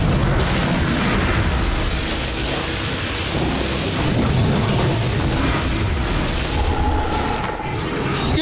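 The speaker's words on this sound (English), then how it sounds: "this is a shield grenade" A shield grenade goes off in The Anacrusis co-op shooter, a loud, sustained rumbling boom that holds a dense roar for several seconds with no talking.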